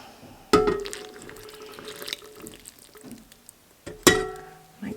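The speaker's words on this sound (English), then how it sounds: "So now I'm going to pour my butter milk mixture with the water and the vanilla in and get to mixing." Buttermilk, water and vanilla mixture poured into a mixer bowl, two sharp clinks of a glass or container against the bowl with soft liquid splashing and dribbling between them, close and quiet.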